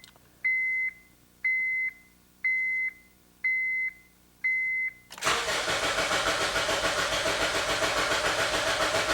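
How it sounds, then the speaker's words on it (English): A 2009 Honda Civic ignition is preceded by five evenly spaced chime beeps, then the starter cranks steadily in a loud continuous churn that never catches into a running engine. "So it's just cranking, it's not starting."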